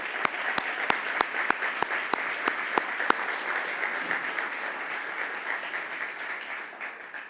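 An audience applauds at the API State of American Energy 2025 program: a few sharp, separate claps open, then dense, steady clapping fills the room before gradually thinning out.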